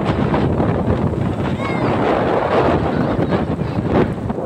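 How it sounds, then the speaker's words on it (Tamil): Steady, loud wind before rain roars across the microphone with a constant broadband rush, buffeting throughout without pause. "யோசிச்சு எவ்வளோ காற்று அடிக்குது"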